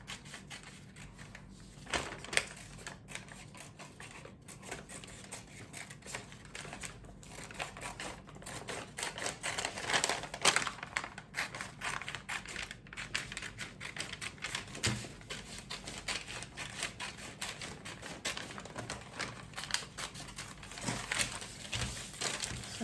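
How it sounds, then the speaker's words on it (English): Scissors snip through paper while a sewing pattern for an off-the-shoulder turtleneck blouse is cut out along its lines, giving a steady run of close, crisp cuts and paper crinkles with no talking. "So I'll just cut this out."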